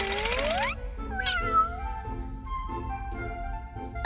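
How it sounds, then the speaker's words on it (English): A cat meows in a few rising, tonal calls close to the microphone, backed by a steady musical bed with no talking. "A cat."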